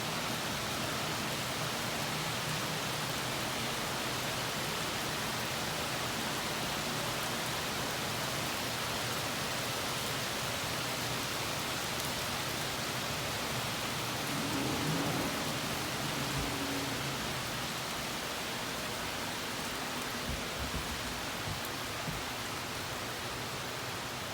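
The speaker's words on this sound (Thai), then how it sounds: "ทุกคนนานๆได้ยินเสียงฝนตก" Steady morning rain falls continuously in Las Vegas, a dense even hiss with a faint low rumble of thunder partway through; no voices.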